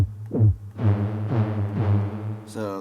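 A Korg Opsix synthesizer plays only its first operator with the modulator turned down, giving a string of clean, evenly spaced pitched notes from a motion-sequenced patch that repeat in a steady rhythm with a brief bright burst near the end.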